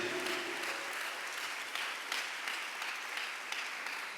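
A church congregation claps together during a sermon, a dense, steady wash of applause filling the room without a break, moderately loud and sustained.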